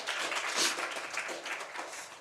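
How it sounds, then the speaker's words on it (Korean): A church congregation applauds together, a steady wash of many hands clapping that swells briefly near the start, with no voices standing out above it. "다시 하나님께 영광의 박수 올려드립니다"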